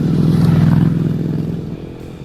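A Honda CRF250L motorcycle riding off-road on a dirt trail, its single-cylinder engine droning steadily close by with a low pulsing rumble that eases slightly toward the end, plus faint clatter from the terrain.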